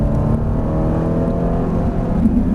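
A Ferrari F458 Italia accelerates on a track, its engine a loud, steady close-up roar with no voices over it.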